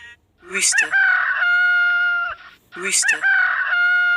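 A rooster crows twice up close, each cock-a-doodle-doo rising and then holding a long, loud, strained note, with a short gap between the two calls.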